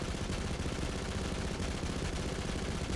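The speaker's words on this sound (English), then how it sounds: "Next, the Gatling gun." Jakobs legendary Gatling gun in Borderlands 3, firing as a dense, unbroken burst of rapid shots that roars loud and steady for the whole span.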